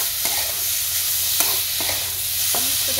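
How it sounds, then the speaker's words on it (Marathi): Ghevda flat beans tossed with spices in a hot pan, a steady sizzle of frying beneath a few sharp scraping stirs of the spatula, with no talking. "परतून घ्यायचं."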